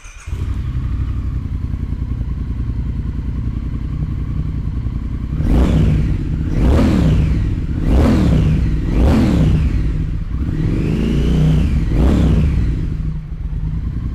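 A Triumph Thruxton 1200 cafe racer motorcycle fires up and settles into a loud, close idle, then gives four sharp throttle blips followed by a longer rising and falling rev, with no talk over it.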